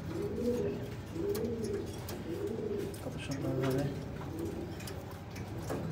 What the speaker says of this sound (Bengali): আমার একজোড়া পছন্দের কবুতর শেয়ার করলাম।